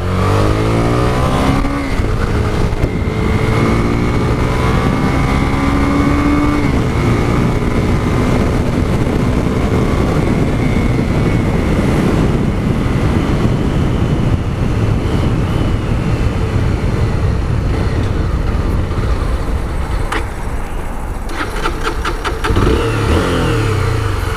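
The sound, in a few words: Honda CB 300 motorcycle engine riding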